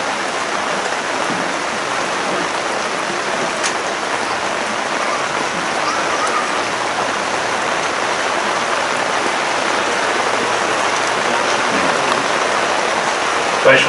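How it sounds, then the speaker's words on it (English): Steady rain falling outdoors at an ANZAC Day service in Ballan, a dense, even hiss that holds unbroken and fairly loud throughout, with no voices. "despite the rain"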